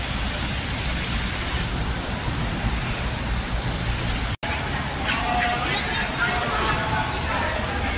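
Heavy rain pours down during a thunderstorm ride on a Harley-Davidson Iron 883, making a dense, constant hiss. There is a brief cut partway through, and the rain continues after it with faint noises mixed in.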